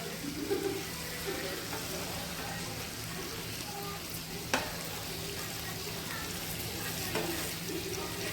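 Bitter gourd pieces in masala sizzle and fry in a pan as they are turned over, giving a steady soft crackle with a few scraping stirs and one sharp clink.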